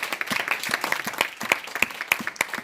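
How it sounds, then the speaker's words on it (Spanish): A church congregation applauds during a Spanish-language worship service, giving a steady, dense round of clapping with sharp individual claps that stays fairly close and even throughout. "Denle esa ofrenda de aplausos al Señor."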